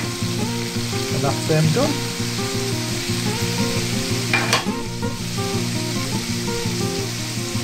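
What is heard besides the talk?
whitebait frying in a pan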